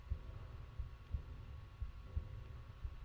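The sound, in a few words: heartbeat sound effect in Tomb Raider 2 video game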